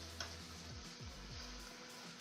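Chopped onions sizzling and frying in a pan for burgers, a faint, steady hiss with a few soft ticks and clicks of stirring.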